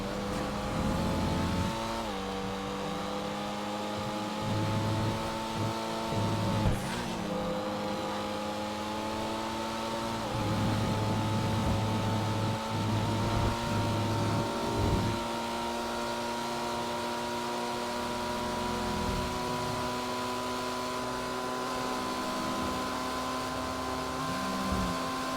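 Pfister Comet SR sports car engine held at top speed in a racing game, a steady, loud droning whine with brief gear-shift dips and tonal shifts, running continuously without talk.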